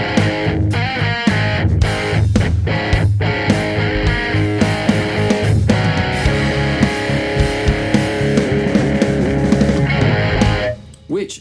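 Electric guitar played through Source Audio Kingmaker fuzz and C4 Synth pedals blended in parallel, giving a thick, loud, continuous synth-fuzz tone with dense rhythmic chords and picked notes that cut off near the end.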